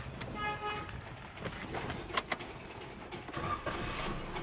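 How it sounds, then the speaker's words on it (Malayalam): A Maruti Celerio car with a newly changed battery is started, a quiet crank and engine catch heard at a distance along with light clicks and a faint background voice. "ഏതായാലും ഞാൻ വാഹനം ഒന്ന് സ്റ്റാർട്ട് ചെയ്യട്ടെ"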